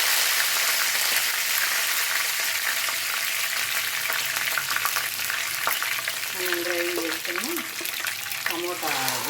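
Curry leaves crackle and sizzle loudly in hot oil for an Andhra-style spicy fish curry, a steady broadband frying hiss throughout, with a voice speaking briefly near the end.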